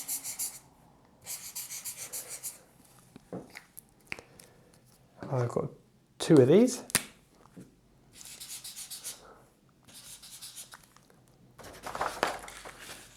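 A whiteboard marker scratches across IKEA MÅLA paper in repeated squeaky, rubbing strokes, close and distinct, in bursts between pauses, with a person talking in between.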